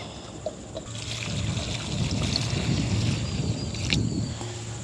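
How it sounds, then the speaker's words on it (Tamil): Onion flowers are rinsed in water under a tap, a light continuous trickle and splashing with small handling clatter, close and fairly quiet. "இப்போ வந்து வெங்காய பூவை வந்து அப்படியே கழுவி எடுப்போம்"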